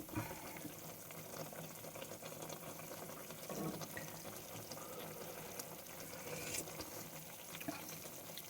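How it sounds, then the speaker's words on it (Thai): Tom yum broth boils hard in a pot, giving a faint, continuous bubbling and hissing with no break and no speech. "เบาลงสักหน่อยที่เธอเดือดแรงเกินไป"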